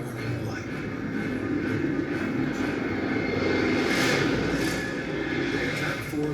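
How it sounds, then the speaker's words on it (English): Propeller engines of Japanese attack planes taking off in the morning, a steady broad drone of several aircraft swelling slightly and fading, continuous throughout with no clear talk over it. "167 more planes jumped skyward into the morning light."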